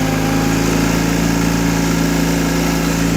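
A 1984 John Deere 316 garden tractor engine runs steadily close by with a slow governor, a loud continuous drone with no speech.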